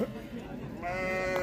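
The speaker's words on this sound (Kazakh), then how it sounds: "Қозылы қой міне, 3 бас қозылы қой бар екен." A single drawn-out bleat from a sheep or lamb at a livestock market in Shymkent, fairly close and rising at the end, with murmuring voices behind it.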